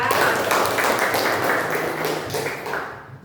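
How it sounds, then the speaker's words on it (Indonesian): Schoolchildren clap for a student in a classroom, a short burst of quick, fairly close hand claps that fades out at the end. "tepuk tangan buat Sakia"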